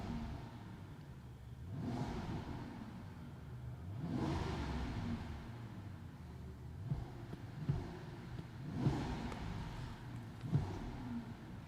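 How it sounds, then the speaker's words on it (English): A 2023 Mercedes-Maybach S 680 Edition 100 V12 revved several times in short, smooth, fairly quiet bursts over a steady low idle, each rise swelling and falling back, with no talk. "V12 sound, listen."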